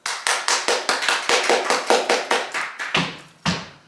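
A single person claps at home, about fifteen close, sharp claps in a steady rhythm, with the last couple spaced further apart as it ends.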